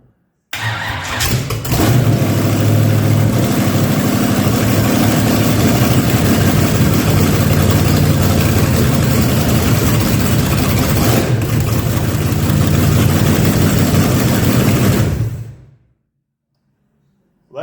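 A Chevelle that has not moved in 30 years cranks and catches within a second, then settles into a steady, loud, high idle that runs about fourteen seconds before it is cut off abruptly.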